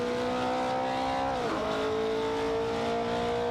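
Racing cars in a video game, a Toyota 2000 GT and a 1973 Holden Monaro, with a loud steady engine drone and a quick pitch dip as one shifts or passes.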